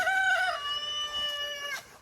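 A rooster crows once, a drawn-out harmonic call lasting under two seconds, fairly close and clear.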